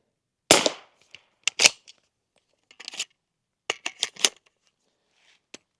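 Suppressed bolt-action .300 Blackout rifle firing outdoors, one sharp muffled report followed by several crisp mechanical clicks and clacks of the bolt being cycled, close with no talking.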